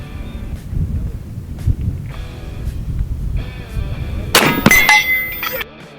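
A .58 caliber AEA Zeus Gen 2 air rifle shot strikes a thick steel target at 100 yards, giving one loud sharp metallic clang that rings briefly over steady outdoor wind noise.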